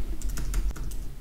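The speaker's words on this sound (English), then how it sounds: "sorry for my typing" Rapid typing on a computer keyboard, a quick irregular run of crisp, close key clicks and taps over a faint steady background, with no voices.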